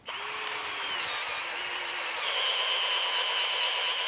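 Close, loud power drill driving a 32 mm spade bit into a wooden log, a continuous high whine that holds steady throughout with no talking.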